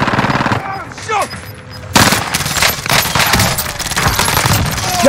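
Rapid automatic gunfire from the Warzone video game, dense sustained bursts of loud shots that fill the whole stretch with brief pauses, while a player talks over it.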